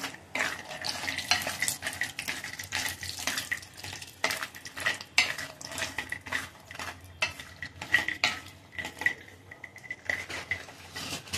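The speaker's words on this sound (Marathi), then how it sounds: "थोडं या तुपामध्ये थोडे तळून घ्यायचे." Pistachios frying in ghee in a pan for methi ladoo, stirred with a utensil, giving repeated scraping clinks over a soft sizzle, close and fairly quiet.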